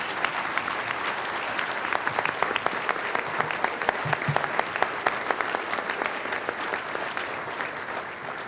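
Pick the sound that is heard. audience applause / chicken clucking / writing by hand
audience applause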